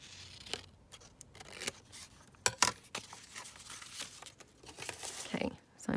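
Scissors snip and paper tears while trimming the top off a botanical book page, with soft crinkling and rustling handled close by at low volume.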